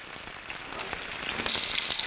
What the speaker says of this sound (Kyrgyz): Тоогубузду кызаргыча бардык бетинен кызарта кууруп алабыз.